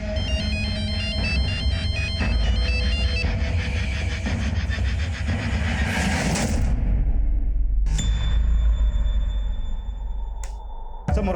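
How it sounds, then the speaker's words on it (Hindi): A phone ringtone plays a repeating electronic melody, loud and close, then cuts off, followed by a few brief beeps and clatter. "किसका फोन था सिया?"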